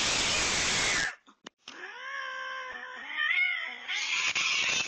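Cats yowl in drawn-out, wavering caterwauls during a standoff with a monkey, the tense cries rising and bending between bursts of harsh broadband noise.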